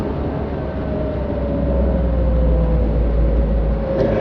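A Traveller van driving on a road, its engine giving off a steady low rumble with a faint whine that holds evenly, loud and close throughout with no talking.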